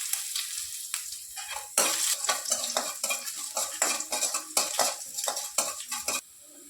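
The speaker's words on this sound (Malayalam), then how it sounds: "നല്ലോണം ഒന്ന് മൂക്കണം മുളകും കൊച്ചുള്ളിയും കൂടെ അരിഞ്ഞത് ഇട്ട് കൊടുക്കാം" Chopped chillies and small onions frying in a pan, a steady sizzle broken by repeated loud scraping and stirring strokes of a spoon against the metal, close up with no talk.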